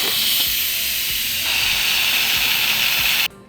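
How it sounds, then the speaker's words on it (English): Leftover steam vents from an Instant Pot after cooking birria verde, a loud steady hiss that continues for several seconds and then cuts off abruptly. "we're going to let any leftover steam out of our Instant Pot"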